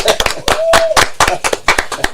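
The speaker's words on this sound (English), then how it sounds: "Hey, can we get a round of applause for Shannon Ross?" Sparse hand clapping from a small community audience, a few loud, close, irregular claps with a brief voice or whistle tone over them.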